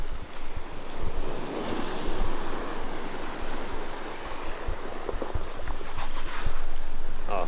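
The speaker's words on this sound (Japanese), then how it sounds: "あ、普通に海だ。" Ocean waves wash onto a beach on Iojima in the Mikawa islands of Kagoshima, a loud continuous surf roar swelling and easing with wind buffeting the microphone, no one talking.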